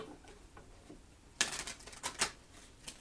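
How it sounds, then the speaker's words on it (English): Oracle cards shuffled by hand, heard as two brisk bursts of riffling and flicking after a quiet start, with a few softer taps near the end. "I shuffled these quite a few times already, but I just like to shuffle them a couple more."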